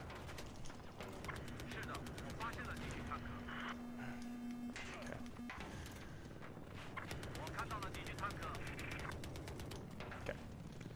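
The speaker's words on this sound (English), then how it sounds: "we're shooting at tank" Rapid bursts of Battlefield 4 gunfire from an attack helicopter gunner seat and mechanical clatter, repeated volleys near and loud, with excited talking over the shooting at a tank.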